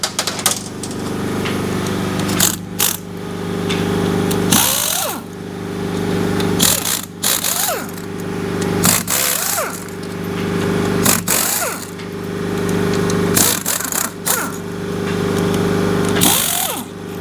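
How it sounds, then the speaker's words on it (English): Hand tools working loose the transmission pump bolts on a 1999 Mercury Grand Marquis AODE, repeated bursts of close ratcheting and tool noise roughly every two seconds over a steady hum, with no talk. "Gonna go ahead and nab the pump bolts out of here real quick."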